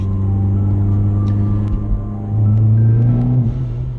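Hyundai Genesis Coupe engine fitted with a forged blow-off valve, a loud, close, steady rumble whose pitch dips and then rises as the revs change, with no talking.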